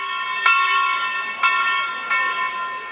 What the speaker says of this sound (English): All of them are enjoying the ringing of bell, I think.